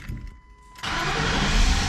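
A 2003 Lincoln Town Car engine cranks and catches abruptly, then settles into a loud, steady idle close by.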